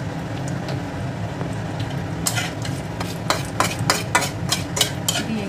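A bay leaf and nigella seeds sizzle in hot oil while a spatula stirs them, with a low steady fry. A run of quick, close scraping strokes takes over in the second half, and no one speaks.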